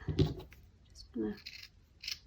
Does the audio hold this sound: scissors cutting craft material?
yes